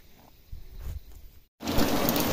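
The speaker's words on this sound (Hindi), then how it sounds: "पाँच मिनटों में कितनी बारिश हो गई" Steady rain falls outdoors, a soft broadband hiss that surges loud and dense after a brief silence, following quieter rustling with no talk.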